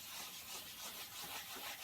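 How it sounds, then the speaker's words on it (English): Wet sanding a leather car seat repair: a close, soft rhythmic rubbing and scrubbing, repeated back-and-forth strokes with a gritty texture, steady and fairly quiet throughout. "And then, like I'm wet sanding it."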